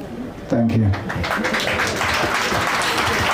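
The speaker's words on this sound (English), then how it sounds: "let's keep that applause going" An audience at a thanksgiving service claps in steady, continuous applause, with a voice speaking over it close by.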